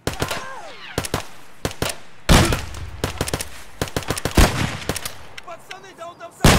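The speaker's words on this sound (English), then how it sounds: "firing off a couple of shots" Gunfire in the shooter game Escape From Tarkov: a series of sharp, loud shots and rapid bursts, some echoing, spread irregularly throughout, with speech faintly present in places.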